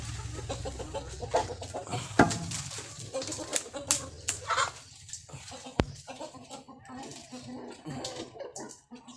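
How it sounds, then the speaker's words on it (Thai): Farm chickens cluck around feeding time, a steady scattering of soft calls and a few sharper squawks close by, mixed with ongoing talk. "เดี๋ยวไปปล่อยไก่ลงก่อน"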